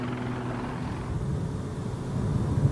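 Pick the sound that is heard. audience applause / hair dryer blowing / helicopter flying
helicopter flying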